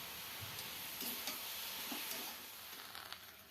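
Soybeans roasting in a pan with salt, turmeric, coriander powder and cumin powder, giving a steady close sizzle broken by soft scraping stirs and a few light clicks.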